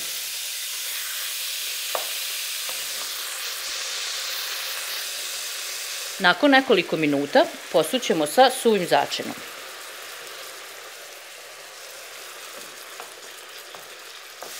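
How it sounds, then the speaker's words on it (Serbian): Diced chicken breast fries in hot oil in a pan, with a steady, close sizzle and hiss throughout; a voice talks briefly over it midway. "Pošto nam se ulje zagrejalo, propržit ćemo belo meso."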